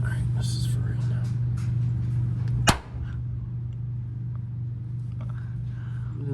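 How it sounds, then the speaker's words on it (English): A seized nut on a car frame breaks loose during a frame-off restoration with one sudden, loud, sharp crack that stands out over a steady low hum and soft background noise. "that was the nut cracking"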